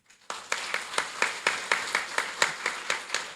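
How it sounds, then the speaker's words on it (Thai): Audience clapping at a Thai public forum on railway policy, a steady run of claps from a crowd at moderate distance, fairly even in rhythm and continuing throughout without voices. "พี่น้องปรบมือให้ท่านประพัดจงสงวนหน่อย"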